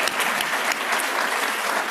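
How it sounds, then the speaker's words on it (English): Sustained applause from the audience at a School of Humanities awards ceremony for an absent prize winner, many hands clapping evenly in a full, unbroken wash. "But we can still clap, right?"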